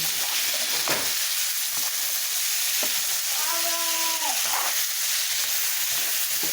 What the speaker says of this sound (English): Caramelizing the onions, the jalapenos, and the garlic.